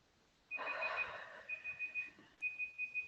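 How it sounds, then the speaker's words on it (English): A meditation timer alarm rings at the end of a breathing session: a steady electronic tone starts after a short swell of sound, then repeats as two short series of evenly spaced beeps, moderately loud, with no one talking. "And that's our timer."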